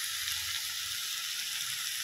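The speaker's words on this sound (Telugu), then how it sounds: "ఇప్పుడు మనం ఈ టొమాటోస్ అన్ని సాఫ్ట్ అయ్యేంత వరకు బాగా కుక్ చేసుకుందాం" Tomatoes and vegetables frying in a pan for pav bhaji give a steady, bright sizzle that holds evenly from start to finish, with faint low stirring thumps early on.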